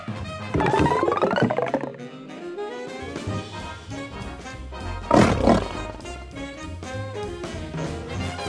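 A lion roars, rising and falling in long, loud growling calls, with a burst of heavy thuds and commotion partway through.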